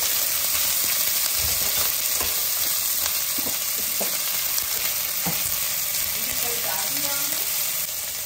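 Onions sizzle and fry steadily in hot oil for Telangana-style mutton curry, a constant close hiss with occasional stirring scrapes and a few faint background voices.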